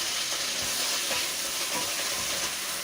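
Loud, close, unbroken crackling and hissing as napa cabbage and water fry in hot oil in a student hall kitchen, a dense sizzle with faint popping and no voices.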